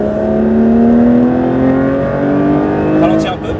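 Porsche GT3 RS accelerating on the Le Mans circuit, its engine note climbing steadily in a loud, sustained rising whine heard from inside the car, with a voice talking over it.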